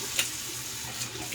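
Tap water runs steadily into a bathroom sink for a rinse after a wet shave, a soft continuous close splash with a few small splatters and no talk.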